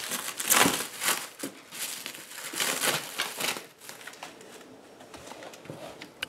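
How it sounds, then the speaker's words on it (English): Protective plastic film being peeled off a Dremel DigiLab laser cutter, close crinkling and tearing rustles in uneven bursts, loudest early and thinning out toward the end. "I'm gonna start peeling off some of the plastic."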